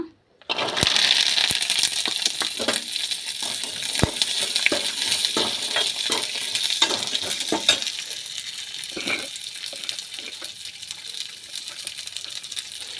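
Garlic frying in a pan on a home stove, a loud continuous sizzle starting suddenly and running throughout with scattered clicks and stirring scrapes.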